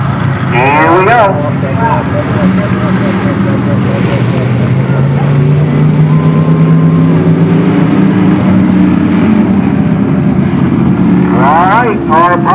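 Stock cars roar together at the start of a women's powder puff race on a dirt track, a loud sustained engine drone with a rising pitch sweep, heavy wind buffeting, and a voice speaking at the beginning and end.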